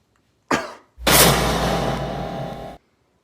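A single harsh cough bursts out, then after a short gap a longer, rough, loud forced cough or throat-clearing rasps on for nearly two seconds before stopping abruptly, close to the ear.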